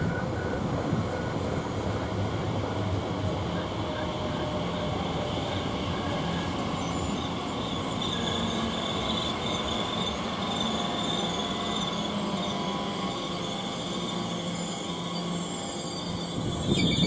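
A Class 345 electric train pulls into Shenfield railway station, its steady rumble and squealing wheels filling the platform for a long, even stretch, loud and near.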